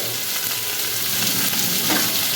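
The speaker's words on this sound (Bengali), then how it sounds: "ভালো করে একটু নাড়াচাড়া করে নেব দেখুন সমস্ত সবজিগুলো আমি ভালো করে ভাজা ভাজা করে নিয়েছি" Loud, continuous sizzling of salted vegetables frying in a pan, with faint scraping as they are stirred, and no voices.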